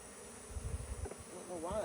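Bees buzz around a beekeeping site, with a queen bee flying off; a close, wavering buzz rises and falls over a busy background hum of insects, growing steadier toward the end.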